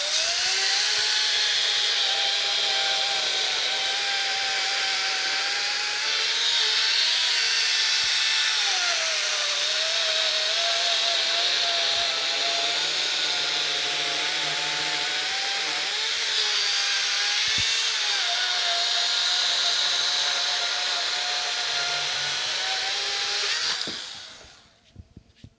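Power saw cutting through a pecan log in a home workshop, trimming an inch or two off the checked end; a steady, loud whining cut that holds for over twenty seconds, then drops away abruptly as the blade finishes.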